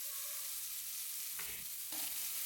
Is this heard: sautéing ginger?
yes